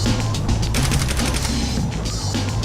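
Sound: gunfire in the video game Saints Row The Third

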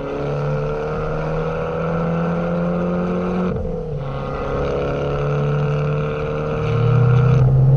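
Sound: Abarth 595 turbo whistle with low direct intake

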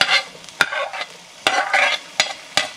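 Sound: onion and green chile sautéing in pan

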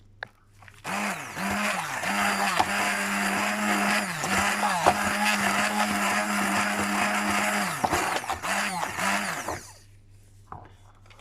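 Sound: whisking carrot cake batter with flour

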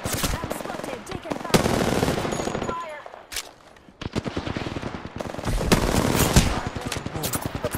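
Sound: gunfire in video game Apex Legends

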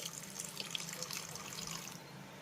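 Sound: half cup of water poured into spices in pan

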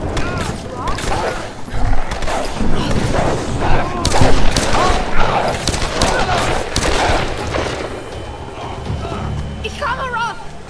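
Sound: gunfire in the video game Tomb Raider 2013

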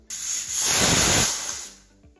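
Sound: pressure cooker whistle releasing steam

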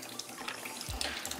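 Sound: coolant draining from a 2009 Yamaha R6 motorcycle

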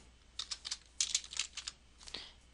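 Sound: typing a test name on a computer keyboard

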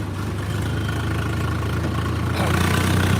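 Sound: Swaraj tractor engine running

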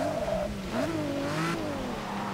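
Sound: race car accelerating in the video game Forza Motorsport 6

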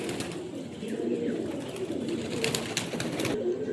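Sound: pigeons cooing, Madras pigeon pair

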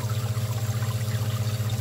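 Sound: water circulating through a bottle in a homemade bottle washer

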